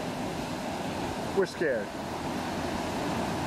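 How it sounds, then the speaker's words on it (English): Strong ocean surf pounds a beach the day before a hurricane, a steady broadband roar of breaking waves throughout, with a brief frightened voice speaking in the middle. "the intensity of the waves, as you can see, is getting much worse."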